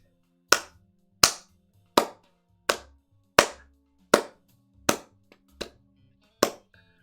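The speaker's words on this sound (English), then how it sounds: "Let's get some Jarvis claps in here" Clapping sound effects played during a Legacy Magic: The Gathering stream: eight crisp, evenly spaced claps, each ringing out briefly before the next, loud and with no talk over them.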